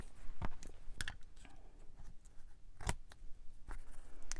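Scissors snip through paper for a 12x12 scrapbook layout, making several close, crisp cuts in an irregular rhythm, with short pauses and no voices.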